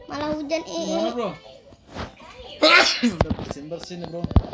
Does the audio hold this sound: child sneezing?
yes